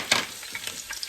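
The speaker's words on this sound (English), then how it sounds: "The garlic just sizzling." Chopped garlic sizzling in hot oil in a pot while making stir-fried rice noodles, a short crackling burst near the start easing into a quieter, steady hiss with a few light pops.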